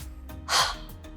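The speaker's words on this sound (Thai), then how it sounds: "การถอนหายใจออกเร็วๆแรงๆค่ะ โดยการที่ให้ปากเรายังคงเป็นกลมๆค้างไว้นะคะ" One forceful, rapid exhalation through a rounded open mouth, a huff-breathing technique for clearing phlegm, bursts out as a short breathy rush between quieter breaths.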